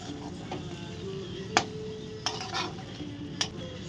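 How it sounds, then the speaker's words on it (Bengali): Muri ghonto, a puffed rice curry, being stirred in a pan gives soft scraping and light sizzling, with a few sharper spoon taps against the metal standing out over a steady low background. "ভালো করে আমরা এটাকে নাড়িয়ে নেব"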